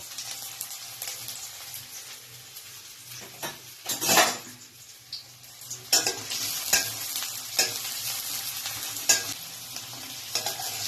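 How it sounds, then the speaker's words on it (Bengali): Chopped onions lightly frying in a pan for begun bharta, a steady close sizzle broken by stirring scrapes and clinks of a utensil against the pan. "তার থেকে 2খানা পেঁয়াজকে আমি এর মধ্যে একটু ফ্রাই করে নেবো খুব হালকা করে।"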